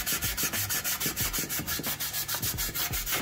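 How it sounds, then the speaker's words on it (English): A maroon Scotch-Brite pad scuffs a metal surface by hand before urethane painting, giving fast, even back-and-forth rubbing strokes that are close and steady throughout. "I'm just gonna use a maroon Scotch-Brite to scuff the surface up"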